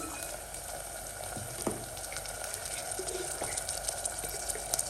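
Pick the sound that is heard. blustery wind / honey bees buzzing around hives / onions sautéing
onions sautéing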